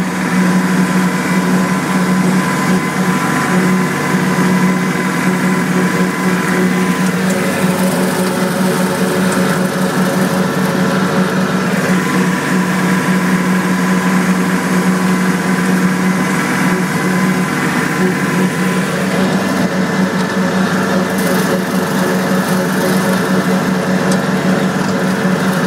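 A Kubota L3010 tractor engine runs steadily in low gear while brush hogging a field, a loud, constant droning hum with no breaks and no talk.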